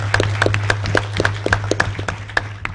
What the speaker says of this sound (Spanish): Bueno, un aplauso a Arturo